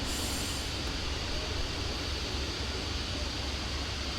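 Steady low rumble of a Class 37 diesel locomotive hauling an express passenger train in Train Sim World, with broad, constant rolling noise throughout, loud and continuous with no voices.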